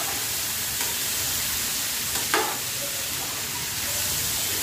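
Ivy gourd (kundru) fries in oil with turmeric and chili, giving a steady soft sizzle with a brief stir or clink in the middle.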